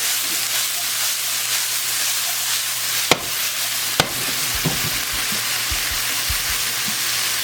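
Garlic frying in a pan during steak Diane preparation, a steady broadband sizzle running throughout with a couple of sharp clicks and knocks of utensils or pan movement, close and even, no talking.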